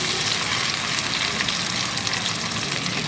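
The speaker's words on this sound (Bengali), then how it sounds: "এবার টমেটোটা দিয়ে 2-3 মিনিট ভেজে নেব" Tomatoes fry with onions in a pan for a bottle gourd dish, giving a loud, dense, continuous sizzle with no break, close by and alone.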